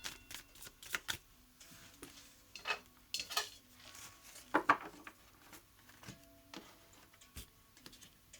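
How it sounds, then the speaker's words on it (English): Tarot cards are shuffled and pulled from the deck at close range, quiet irregular riffles, slaps and clicks of card stock in short bursts with no talking. "Let me pull some cards."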